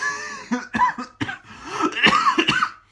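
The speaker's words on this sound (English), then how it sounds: "Yes, I've still got my cough." A person coughs several times in a short burst of sharp, harsh, irregular bursts with some throat clearing, close and fairly loud, with no talk.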